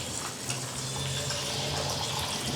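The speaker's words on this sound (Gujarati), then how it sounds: "અને પાણી આપણે ખાંડ ડૂબે એટલું" Water pours onto sugar in a pot for syrup for a dry-fruit sweet, a steady, fairly quiet splashing stream with a faint tonal hum beneath.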